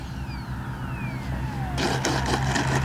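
A FlyFans L-39 RC model jet comes in to land. A thin whining turbine tone falls steadily in pitch, then gives way to louder broadband rushing and rumble near the end, against constant background noise.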